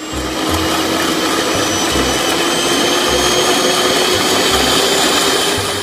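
A toy kitchen mixer runs with a steady, loud electric whir that holds constant throughout and has a faint pulsing hum underneath.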